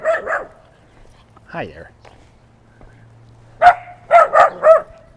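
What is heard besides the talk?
dogs barking at the walker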